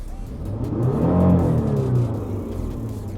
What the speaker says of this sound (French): Alors là on entend bien le moteur